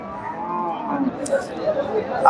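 Cattle at the Chandaikona livestock market, a cow lowing amid the murmur of a busy crowd, with low voices chattering throughout and a few louder calls rising near the end.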